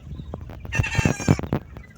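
Young laying-age hens cluck and squawk up close, a busy run of overlapping calls swelling to a loud cackle in the middle before tapering off, with no voices over them.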